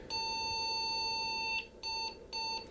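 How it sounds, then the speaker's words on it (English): An IBM PC 5150 with a Hercules graphics card beeps at power-on, close and clear: one long tone, then three short beeps in quick succession. "we've got some beeps"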